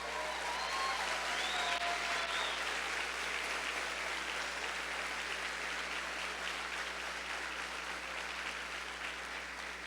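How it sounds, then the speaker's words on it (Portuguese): A church congregation gives long, steady applause at an evening service, a continuous dense clapping wash with faint cheers and voices mixed beneath it. "Quantos creem nesse Deus, aplaudam Ele essa noite, aleluia!"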